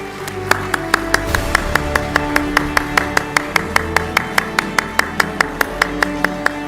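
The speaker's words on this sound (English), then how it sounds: "Please keep the round of applause going." Hands clap at a CBU 56th AGA Hall of Fame induction award ceremony, sharp, evenly spaced claps in a quick, steady rhythm standing out clearly over a low murmur of the room.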